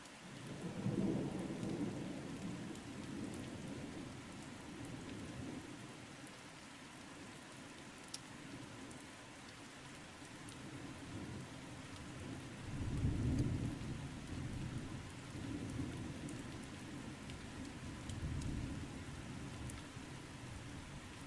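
A thunderstorm with rolling thunder and steady rain: low rumbles break out near the start and again in the middle, over a continuous patter of falling rain.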